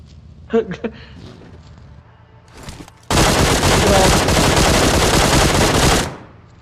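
Automatic gunfire in the mobile game PUBG Mobile: a few sharp shots first, then a loud sustained burst of rapid fire lasting about three seconds before cutting off.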